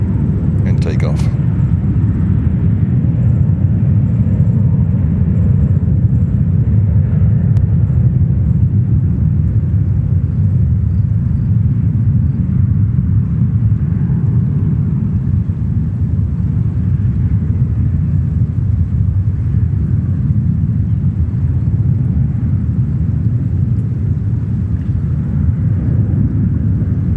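A jet airplane taking off at New York's JFK Airport, heard as a steady, loud, distant engine roar and rumble that holds for the whole stretch with no talking over it.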